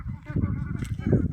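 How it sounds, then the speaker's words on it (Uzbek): Geese on a farm give a few hoarse, nasal honks, fairly near and moderately loud over a low rumble of background noise. "G'ozlarimiz ham yuribdi."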